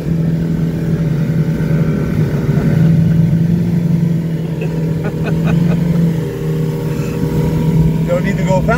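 An airboat glides through the Everglades at about 22 miles an hour, its motor droning loudly and steadily with a low hum throughout, and voices talking over it.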